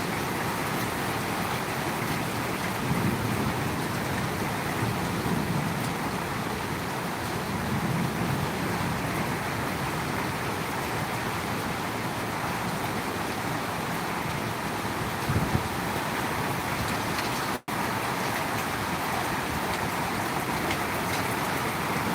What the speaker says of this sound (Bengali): বৃষ্টিটা কমে যাচ্ছে মনে হচ্ছে